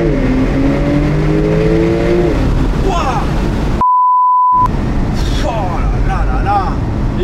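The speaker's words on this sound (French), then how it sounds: "Les amis, c'est le moment du launch control." A Porsche 992 Turbo S engine revs high and holds on launch control, then surges as the car launches hard and accelerates on a closed road. A steady electronic beep briefly cuts in partway through.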